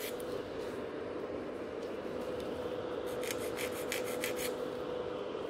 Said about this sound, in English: Now I'm just going to be very careful with filing in case if the glue didn't set yet.